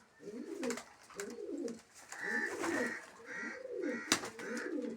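Pigeons in a loft coo in repeated soft, rolling phrases, close and steady, several birds overlapping with brief pauses between calls.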